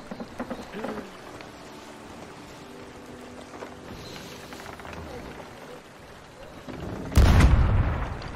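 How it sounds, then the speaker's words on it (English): A single heavy cannon shot in a video game booms out near the end, loud and close, after several seconds of low rumbling ambience with faint scattered noises. "As you fire a cannon at him."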